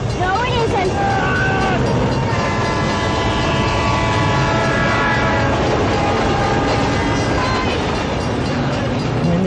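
A train rumbling past up close with a blaring horn and clattering wagons, loud and continuous throughout, with voices in the background.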